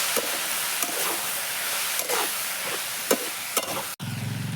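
Dal cooks in a pan on a village wood-fired stove for prawn curry. A steady sizzle runs throughout, with a spoon scraping and stirring at roughly one-second intervals before a sudden dull knock near the end.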